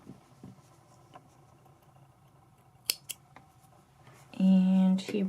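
Scissors snip through crochet yarn after finishing a granny square, a short crisp cut near the end following faint handling noises; a voice speaks quietly around it.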